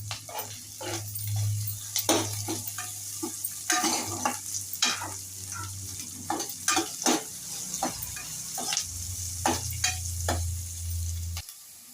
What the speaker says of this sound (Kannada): ಇದು ಈರುಳ್ಳಿ ಕೆಂಪಗೆ ಆಗೈತೆ.